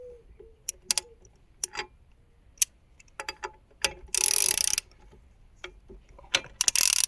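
A wrench undoes the wheel bearing nut on a VW Golf 3 with the brake drum removed. Quick ratcheting clicks come in irregular bursts, and one short scraping rush sounds near the middle.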